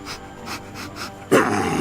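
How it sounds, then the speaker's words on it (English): A dog pants close by in quick, rhythmic breaths, then gives a sudden louder rough growl near the end. "Why is there even a rabid dog in this neighborhood?"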